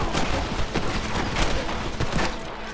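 Dense, rapid gunfire crackles in a Red Dead Redemption shootout, with continuous overlapping shots and booms forming a loud, chaotic barrage throughout.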